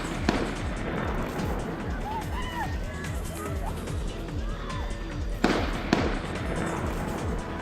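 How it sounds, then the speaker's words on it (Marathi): Gunfire from a terrorist attack on tourists at Pahalgam, Kashmir: a few sharp, distant cracks, one early and two close together later, over steady crowd and outdoor noise with voices in the background. "दहशतवाद्यांनी केलेल्या अंधाधुंद गोळीबाराचा आवाज व्हिडिओमध्ये कैद।"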